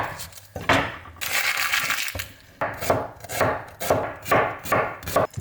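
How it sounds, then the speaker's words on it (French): A knife chops onions on a cutting board in quick, crisp strokes that come in uneven bursts, close and loud. "On va peler et émincer les oignons."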